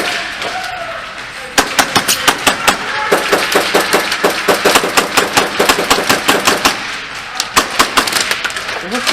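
Airsoft Hi-Capa gas blowback pistol firing a long string of sharp, loud shots in quick succession, close by, with brief pauses, during an indoor-style skirmish game.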